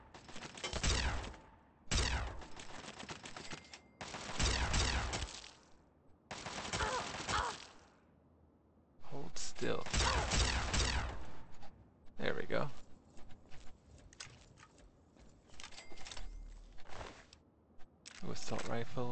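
Bursts of assault rifle fire, including a Chinese assault rifle, crack out in Fallout 3, rapid volleys in repeated loud clusters separated by short gaps, some longer and some clipped.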